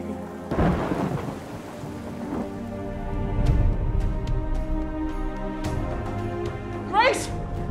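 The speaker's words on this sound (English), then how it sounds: "A storm is brewing." A staged theatre storm effect brings crashes and low rumbles of thunder over steady rain, with a sharp crack near the end and voices speaking through it.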